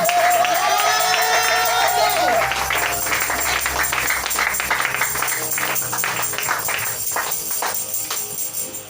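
A church congregation cheers and claps in praise, a dense crowd roar with shouts and whoops at first that thins into scattered applause and murmur over nine seconds.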